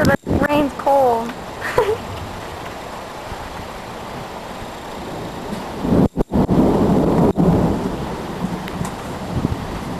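A windy Michigan thunderstorm with cold rain hissing steadily throughout, a few sharp cracks and rumbles of thunder cutting in, and voices talking and exclaiming over the opening seconds.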